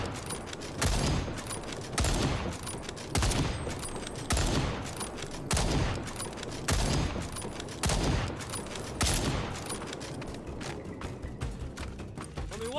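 Bursts of gunfire while hunting a T-Rex in the video game Second Extinction, loud repeated volleys roughly every second, thinning out toward the end, with no talk.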